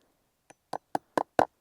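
Five sharp knocks of a hammer driving nails a short way into a treated cedar fence post for an angled brace on a pasture fence, coming in quickening succession and growing slightly louder, close up with no talk.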